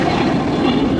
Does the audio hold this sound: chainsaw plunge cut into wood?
no